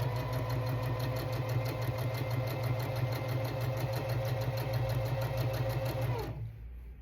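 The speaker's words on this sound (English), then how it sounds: "So we're going to sew a straight line." A sewing machine runs a straight stitch through fabric, a steady rapid mechanical chatter with a low motor hum that continues evenly before stopping near the end.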